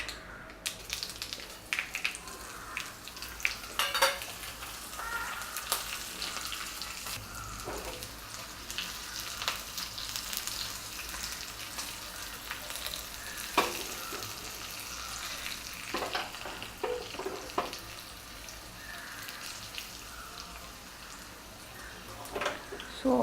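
Curry leaves and chilies sizzle and crackle in hot oil with mustard seeds for cucumber raita, a steady dense frying hiss with sharper pops and stirring clatter throughout, close and moderately loud.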